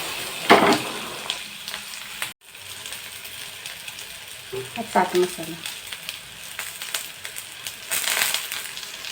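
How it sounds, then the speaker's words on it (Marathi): Cut pieces of alu vadi sautéing in hot tempering, with a close, crackling sizzle and scraping stirs, a few sharp metallic clicks and spatters over a steady frying hiss. "आपण आता याच्यामध्ये ज्या वड्या कापून घेतलेल्या आहेत त्या घालून परतणार आहोत"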